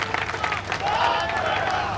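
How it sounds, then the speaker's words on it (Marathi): An audience at a Maratha community gathering claps in a dense burst of applause that holds steady for two seconds, with an amplified speaker's voice talking over it. "एकदा जोरदार टाळ्या आपल्यासाठी झाल्या पाहिजे."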